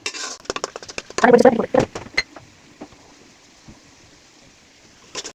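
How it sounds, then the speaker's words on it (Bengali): Spice paste being sautéed for a pangas fish curry is stirred in a pan, with a burst of clattering metal spoon clanks and scrapes early on that fades into sparse, faint taps. "সুন্দর করে মশলাটা কষায় নেব ভালো করে নাড়াচাড়া দিয়ে সুন্দর করে কষায় নেব"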